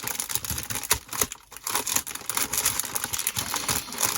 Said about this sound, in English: So I'm cutting with the blunt edge of the scissors.